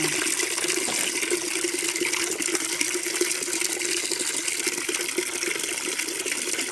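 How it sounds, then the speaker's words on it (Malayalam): Water pours steadily into a bucket, a continuous close gushing with a hollow ringing tone as it fills. "നമുക്ക് കുറച്ച് വെള്ളം ഒഴിച്ചു കൊടുക്കാം ഇതിലേക്ക്"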